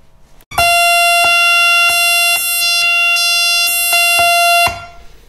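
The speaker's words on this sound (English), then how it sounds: "I've managed to get it to make a quite nice flute stroke vibes sort of a sound" An Ondioline-style synthesizer with coupled octaves plays a bright, flute-like sustained tone, rearticulated in a steady run of quick repeated notes for about four seconds, loud and close.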